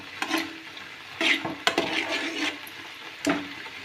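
A curry stirred in a pan until thick, with a few separate scraping strokes and soft bubbling, close and moderately quiet with pauses between.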